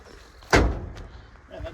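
A banged-up old truck door in a Texas junkyard swings shut with a single solid, close thud, followed by quiet outdoor ambience and brief talk.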